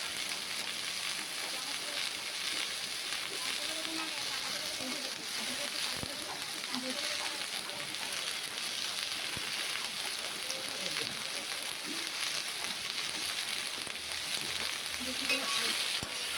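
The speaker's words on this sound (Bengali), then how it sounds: "আলু গাজর ভাজা হচ্ছে" Potato and carrot strips fry in oil in a wok for street-style chicken chow mein, giving a steady, continuous sizzle with faint stirring, while a voice speaks quietly underneath.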